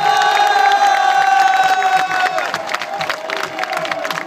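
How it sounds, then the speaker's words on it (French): At a Sporting football club fan day and open house, a crowd cheers and claps to welcome a returning figure. Loud, sustained shouts and applause swell at first and then thin into scattered whoops over a steady tone. "Applaudissements pour le grand retour au Sporting de monsieur Olivier Renard."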